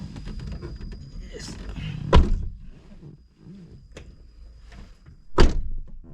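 A Suzuki Swift car door shuts twice with heavy, close thuds, several seconds apart, amid quiet rustling and handling noises, with people talking in between.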